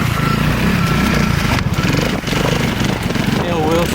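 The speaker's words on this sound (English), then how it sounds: "Wilson on his Peter 4-stroke" A four-stroke trials motorcycle runs at an outdoor club trial section, its engine chugging and revving loudly and continuously with the throttle blipping, while voices talk over it.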